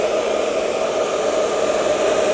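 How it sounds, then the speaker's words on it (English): A hair blow dryer running on medium heat and medium setting, a steady close whooshing hum that stays constant and loud throughout. "we can actually use our blow dryer and just go in with a medium heat"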